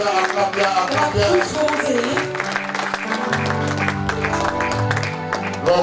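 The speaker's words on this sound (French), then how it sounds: "Acclamons pour le Seigneur" Congregation applauding rhythmically during a lively church service, steady dense clapping blended with music and singing voices throughout.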